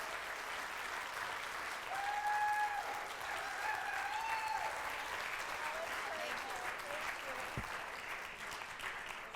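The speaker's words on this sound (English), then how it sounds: "We have to give an applause" Sustained applause from an audience, steady clapping that swells slightly midway and continues throughout, with faint voices mixed underneath.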